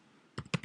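Several quick keystrokes on a computer keyboard, a short close cluster of soft clacks after a brief quiet pause, with no voices.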